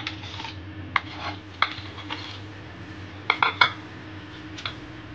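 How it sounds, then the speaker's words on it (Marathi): Yogurt being added to a rice-flour batter for instant medu vada, heard as a few sharp clinks and scrapes of a spoon against a bowl, moderately close, with quiet gaps between them and no talking. "त्यासाठी मी पहिले दही टाकले"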